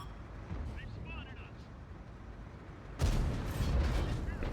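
A tank cannon firing at a Conqueror tank in an online tank battle game, one sudden heavy boom followed by rumbling engine and battle noise, with someone speaking before it.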